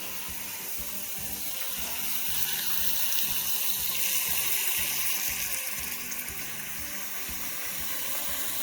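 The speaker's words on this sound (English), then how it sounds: "and then you just fill up your pot until they are covered" Tap water pours steadily into a cooking pot holding onions, garlic and serrano peppers for salsa verde, a continuous close hissing splash with a slight rise in the middle, no talking.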